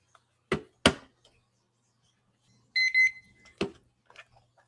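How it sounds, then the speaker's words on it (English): A short electronic timer alarm during an online workshop sounds a quick pair of bright, high beeping tones in the middle of the clip. Sparse knocks and clicks come before and after it, with a little faint speech afterward. "You'll hear the timer go off if you're nearby"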